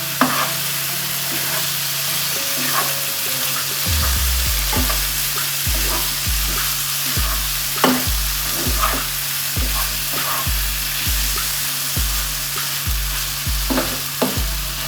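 Chicken biryani masala stirred in a pan, with a loud continuous sizzle and evenly spaced scraping strokes of a spoon roughly every second, close up with no talking.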